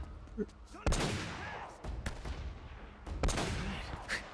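Gunfire in the Uncharted video game, several sharp loud shots cracking in quick irregular bursts, close and punchy, with a voice talking between them.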